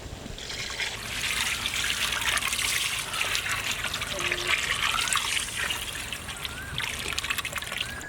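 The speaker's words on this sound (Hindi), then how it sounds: "उसी में हम लोग ब्लैक टैमरिंड जूस ऐड करेंगे।" Black tamarind juice pours into a large katla fish curry frying in a pot, a steady splashing trickle with sizzling hiss, close and continuous throughout.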